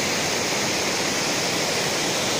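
The Hang Cọp waterfall roars as a steady, dense wash of rushing water, loud and close, with no other sounds breaking through.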